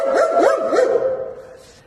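A small, frightened dog in the Vitsa shopping passage in Pidzamche gives a quick run of loud, close, sharp yapping barks. The barks then fade into a softer trailing whine.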